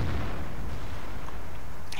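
Tank cannon fire in the World of Tanks video game: a deep boom at the start that rolls into a continuous low, dense rumble of battle noise, with no voices.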